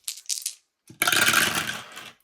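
Dice are shaken and rolled onto a hard surface, a few quick light rattles, then a brief gap and a loud clattering tumble that fades out, close up with no talk.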